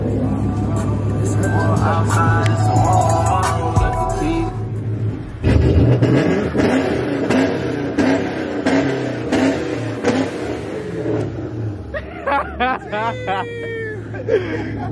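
A car engine idles and revs loudly and continuously, with people talking over it and a short burst of higher-pitched sounds toward the end.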